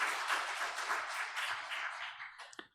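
Members of a church congregation at Sunday worship clap to welcome a member, a short burst of brisk applause that dies away, ending with a couple of soft knocks.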